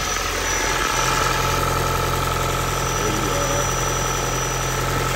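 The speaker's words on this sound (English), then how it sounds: "the engine purrs." A Toyota Prius Prime engine idles steadily with a continuous low rumble and even hum, unchanging throughout, close by.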